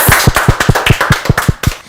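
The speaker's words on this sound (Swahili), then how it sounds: "Haya makofi ya the Mugos." Applause for the Mugo family at a gathering: quick, even, rhythmic hand claps, loud and close, with no talk over them.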